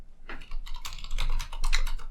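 Quick keystrokes clatter on a computer keyboard as someone types, a close, busy run of taps lasting about two seconds.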